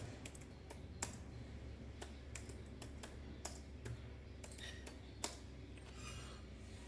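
A computer keyboard being typed on to enter a fastboot command for flashing a Realme C21Y phone: a run of crisp, separate keystroke clicks in an uneven rhythm, close and fairly quiet, with no speech.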